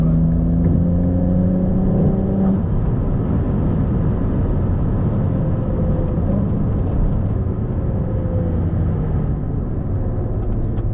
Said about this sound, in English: when you're launching the vehicle like that off the line